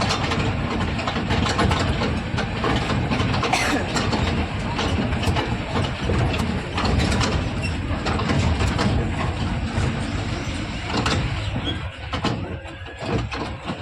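A small park train at Malbazar runs with a continuous rumbling engine and rattling carriages, loud and close, with faint voices mixed into the steady mechanical din.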